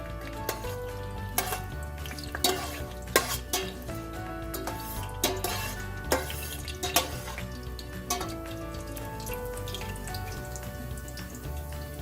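Red lentils browning in a frying pan, with dried red chilies nearby, give a soft continuous sizzle broken by scattered clinks and taps of stirring against the pan, close and moderately quiet.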